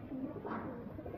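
A soft coo from Salara Golden breeder pigeons rises briefly amid low background rumble, faint and close.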